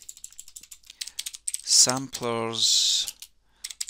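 Fingers type a search on a computer keyboard in quick, close clicking bursts before and after a short spoken phrase.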